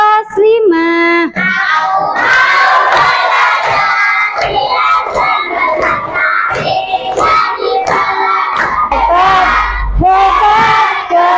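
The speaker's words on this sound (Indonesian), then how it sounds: "kalian yel-yel kelas 5" Grade 5 pupils in a primary school mathematics classroom shout their class cheer together, a loud, continuous chorus of young voices chanting and yelling in rhythm for about eleven seconds, with a voice briefly at the start.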